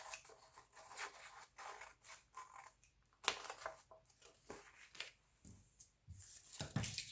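Scissors trimming the overhanging edges of a paper collage, a run of quiet close snips and crisp paper rustles in an irregular rhythm, faint and with no talking.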